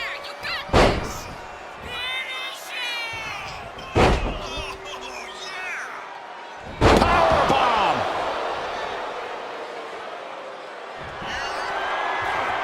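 Several heavy slams boom through the ring in the WWE Raw 2002 video game, including a thunderous F5 impact, with announcer commentary and crowd noise running throughout.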